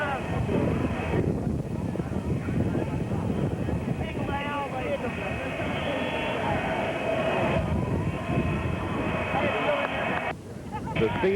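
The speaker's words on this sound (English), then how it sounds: "Here comes the big jet in." A big jet airliner carrying the president arrives at Love Field in Dallas, a loud sustained engine roar and whine under crowd chatter and voices, with wind buffeting the microphone.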